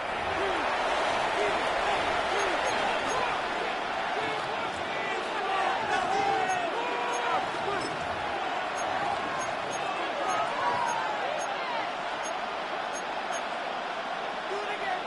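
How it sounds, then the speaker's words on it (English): A large NFL stadium crowd roars continuously on a Chiefs third down, loud and sustained, with a commentator talking over the noise. "This crowd trying to be a factor, getting very loud now."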